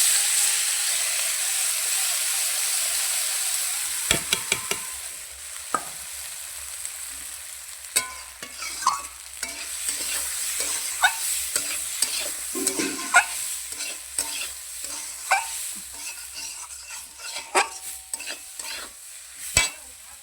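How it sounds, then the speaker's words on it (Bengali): Rice fried in oil for pulao in a home kitchen, stirred with repeated scraping clatters over a steady sizzle and hiss, close and fairly loud with no talking. "5 মিনিট ভেজে নেবো চালটা"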